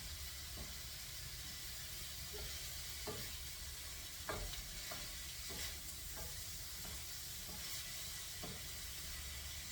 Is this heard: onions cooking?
yes